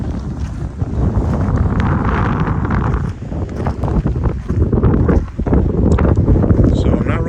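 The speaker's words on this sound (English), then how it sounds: "It's windy and cold in Havasu today" Heavy wind buffets the microphone in a constant loud roar at Lake Havasu, with low rumbling gusts throughout.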